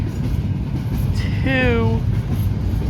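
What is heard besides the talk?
long train's cars passing by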